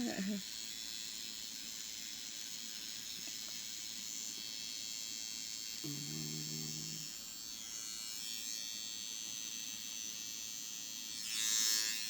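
A small electric razor buzzes steadily up close while trimming eyebrows, a thin continuous whine with a brief lower hum partway through and a soft rustle near the end.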